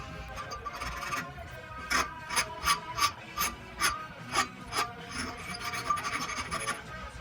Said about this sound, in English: I can just file down that cut tip just to make sure there's no burrs or like snaggy parts that are going to cut the line